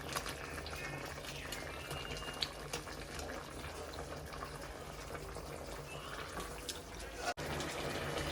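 A pot of crab curry bubbles on the stove, a soft continuous simmer with small pops and gurgles, fairly quiet and close, with a brief dropout near the end.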